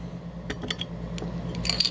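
A twist-off cap being opened on a bottle of Guarana Brazilia soda, heard as a few small, close clicks and light metallic ticks over a quiet low hum, with a brief scrape near the end.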